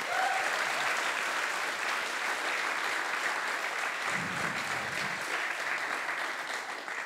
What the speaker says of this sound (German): Ja, komm, wir geben einen Applaus.